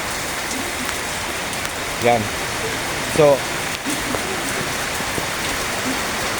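Steady rain patters across the whole clip, a dense wash of drops, with someone briefly speaking over it twice.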